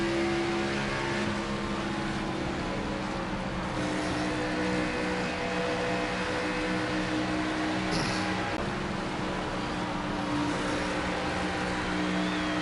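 Race car driven in the NASCAR 25 video game, a loud, steady engine drone with sustained harmonic whine and slight pitch shifts throughout, heard alone without talking.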